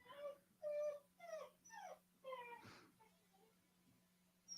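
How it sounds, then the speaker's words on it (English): A dog gives a run of five or six clear, whiny barks or yelps in quick succession, fairly close and loud, followed by quieter background sounds and a faint steady hum. "Oh, that's a dog."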